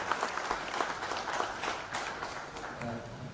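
An audience at a professional forum applauds as two guests are welcomed, a steady patter of clapping mixed with indistinct crowd voices throughout.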